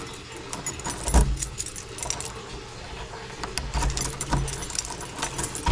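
A bunch of keys jangles and rattles near at hand while a room door is unlocked, with clinks coming in uneven clusters over a low background rumble.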